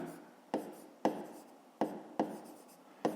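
Pen or chalk writing out a fifth-grade math solution, giving scratchy strokes with sharp taps at roughly half-second to one-second intervals, close and quiet, with no voice.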